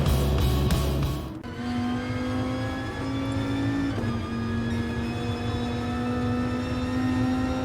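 A Group 3 Viper race car in GT Sport at Laguna Seca, its engine droning loudly and steadily in a sustained rising tone after a brief burst of revving at the start, with no talk over it.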